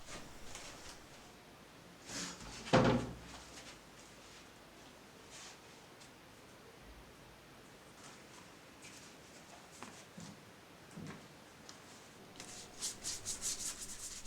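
Leftover paint brushed onto paper as base layers for collage, quiet scratchy rubbing strokes in irregular bursts with one louder scrape near the start.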